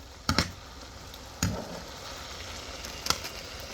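Fried okra in sauce is stirred in a pan for a Lebanese dish, soft sizzling under three distinct scraping knocks of the utensil, close and quiet, no talk.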